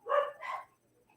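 A small dog gives two quick barks close by, the second softer, followed by quiet.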